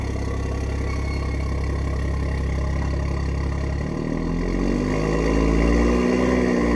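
BMW M135i engine idling while warming up after an intercooler and downpipe install, a loud steady close drone whose pitch rises slightly partway through, no talk.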